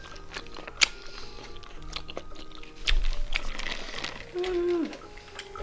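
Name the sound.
chewing strawberry latte with tapioca bubbles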